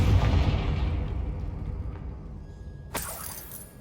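A Confringo blast spell in a video game explodes loudly at the start with a broad roaring burst that decays over a few seconds, followed by a sharp crackling impact near the end.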